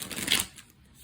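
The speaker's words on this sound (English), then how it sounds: "I'm going to go ahead and start my shuffle here." A brief rustle of tarot cards being shuffled, close up, then quickly fading to near silence.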